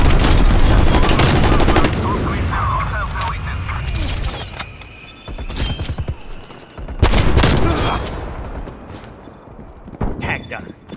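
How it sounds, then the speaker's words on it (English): Heavy aircraft gunfire from a strafe run in the shooter game Call of Duty Black Ops Cold War, sounding as loud sustained bursts of rapid shots in several waves with explosions under them, while a voice talks over the barrage. "Strafe run, you have your targets."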